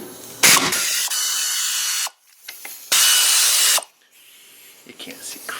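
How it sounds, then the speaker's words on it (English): A power tool whirs in two loud bursts of a couple of seconds each, close by, as a brake caliper is pulled off a Dodge Dakota, with quieter clanking and handling noise between them. "Step two, we got to pull this caliper off."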